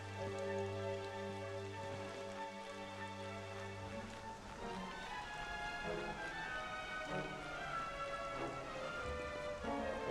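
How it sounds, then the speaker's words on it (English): Rain falling in the game Dragon Quest XI S, a soft, steady patter that continues under game music throughout. "It would have to go and start raining, wouldn't it?"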